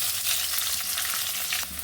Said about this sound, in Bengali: কেটে রাখা আলুগুলো ভেজে নেব